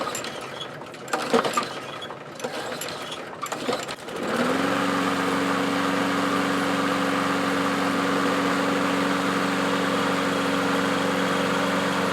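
A Craftsman lawn mower's small engine starts after a few seconds of scattered knocking and handling sounds, then runs at a loud, steady idle with a constant droning hum until the end.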